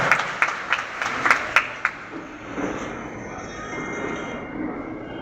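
An audience at a student award ceremony in Porbandar claps to welcome a student. The applause comes as a brisk burst for about two seconds, then fades into a low room murmur.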